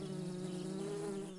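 Close, steady buzzing of a honeybee in a garden near honeysuckle, a continuous droning hum that holds even and fades slightly at the end.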